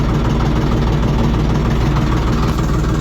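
A LOVOL small tractor engine runs loud and close in reverse gear, a steady low, throbbing diesel drone with constant vibration and no pauses throughout.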